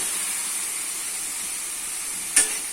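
Spices and vegetables frying in a pan, a steady close hiss and sizzle throughout, with one brief louder spurt near the end.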